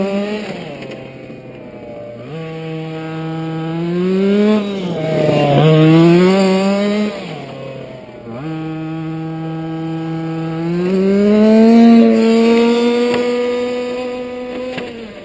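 A 4WD FG Modellsport Sportline RTR touring car sedan with tall stock gearing drives on an unprepared surface. Its engine drones steadily, then rises and falls in pitch through repeated accelerations and slowdowns, loud and close, with no talk.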